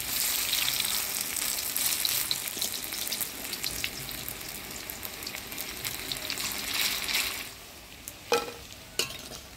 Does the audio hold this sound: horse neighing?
no